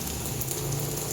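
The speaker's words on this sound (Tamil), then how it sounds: "நல்லா ஹெவி மழை." Heavy rain pours in a dense, continuous hiss, a steady wash of droplets drumming on surfaces close by with no pauses.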